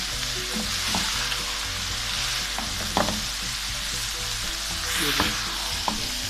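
Vegetables for chicken egg fried rice sizzle steadily in a hot pan, a continuous close frying hiss broken by occasional clinks of a stirring utensil, with no talking.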